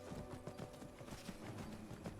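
Horse hooves clip-clop in a steady, quick rhythm during Skyrim gameplay, moderately loud and close, with a faint game ambience beneath and no talk.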